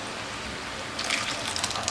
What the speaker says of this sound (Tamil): தேவையான அளவுக்கு தண்ணி தேங்காய் பால் விட்டுக்கலாம்.